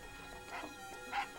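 A dog gives two short, fairly faint barks or yips about half a second apart, heard from a little distance in an indoor domestic scene.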